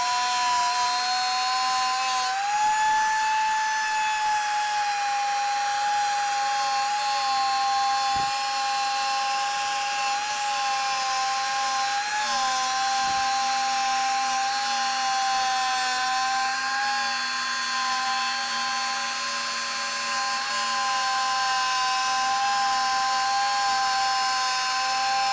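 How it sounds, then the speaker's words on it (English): A router on a circle-cutting jig cuts a round oak tabletop, a sustained high-pitched whine running steadily with slight pitch shifts and brief dips, loud and close with no talking. "After completing the majority of the depth of our circle cut with our circle cut jig"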